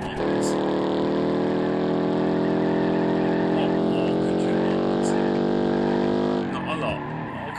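A car engine droning steadily at high revs while driving through a snowy Christmas forest in BeamNG.drive, holding a sustained buzzing tone for several seconds before easing off near the end, with a voice talking over it.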